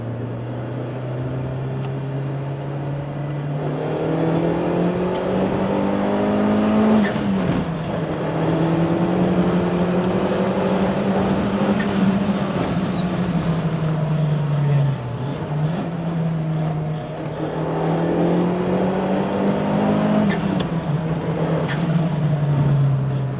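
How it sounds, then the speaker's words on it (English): A Toyota Starlet Glanza V hatchback engine hums steadily from inside the car, its pitch rising and falling with several revving swells as it drives, loud and continuous with no voices. "this is what it's like driving this car"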